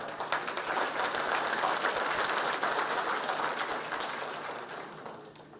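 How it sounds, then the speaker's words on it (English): An audience at a formal business event welcoming company leaders gives dense, sustained applause that fills the whole stretch with a steady hiss of clapping, fading slightly toward the end. "Let's give them a big applause."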